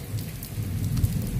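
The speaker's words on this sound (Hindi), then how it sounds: "और इतनी मज़ेदार बारिश हो रही है।" Steady rain falling outside a home, a continuous soft hiss with low rumbling texture throughout, fairly close and uniform in loudness with no voices.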